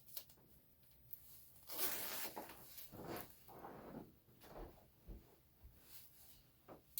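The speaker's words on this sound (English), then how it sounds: "It zips here and here" A zipper on a black jacket is drawn along in quick, scratchy strokes, faint and close, with soft rustling of fabric between pulls.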